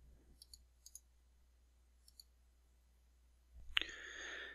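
Several sharp, quiet computer mouse clicks, isolated in a near-silent room with low hum, followed by a brief louder burst of broadband noise near the end.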